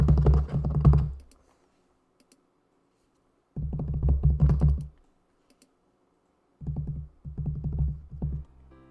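Keyboard typing from the video game Root Film comes in three bursts of quick, close clicks, with pauses of silence between them.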